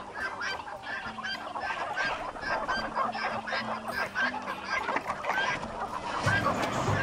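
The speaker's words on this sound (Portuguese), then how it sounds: "no quintal, várias galinhas ciscando os restos de bichos" Several backyard chickens cluck and cackle in quick, overlapping bursts. The squawks are close and fairly loud throughout, with no talk.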